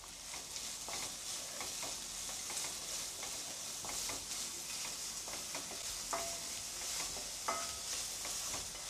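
Onion and ginger sauté in a pan for a homemade winter vegetable soup, giving a steady, soft sizzle with occasional louder spoon stirs and scrapes close by, no voices.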